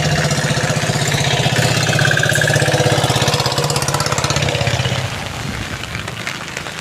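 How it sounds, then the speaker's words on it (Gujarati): A vehicle engine runs loud and close on a roadside during rainy weather, a steady pulsing drone that holds for about five seconds before easing off as it moves away. "જો રસ્તે વાહન કેમ જાય બધા"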